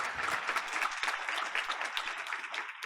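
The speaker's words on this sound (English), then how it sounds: "Let's give her another round of applause." An audience at a board of education meeting gives a sustained round of applause after a presentation, many hands clapping in a continuous, moderately loud patter with a few sharper individual claps.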